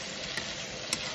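Masala spices cooking in a pan while the dish is prepared, giving a steady soft sizzle with two brief louder scrapes or stirs, close by and without talk.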